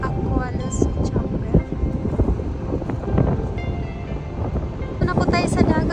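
Strong sea wind gusting steadily at Manza Beach in Okinawa, rumbling and buffeting the microphone throughout, with voices talking underneath.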